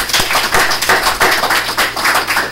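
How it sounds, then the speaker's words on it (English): A round of applause at a board meeting, loud close claps in a rough, uneven rhythm from a small group, each hit sharp and percussive and quite near. "That deserves a round of applause."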